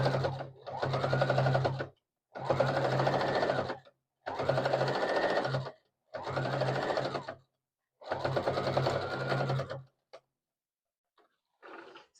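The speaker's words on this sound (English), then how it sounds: "I don't mind doing an extra straight stitch." A sewing machine runs a straight stitch across a simple multicolored block blanket in six even bursts of whirring, each about a second long and separated by short pauses, then falls quiet apart from a soft handling sound.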